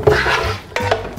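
Cooked mushrooms are scooped into a blender with a utensil, giving two close, short bursts of scraping and clattering against the container within a second.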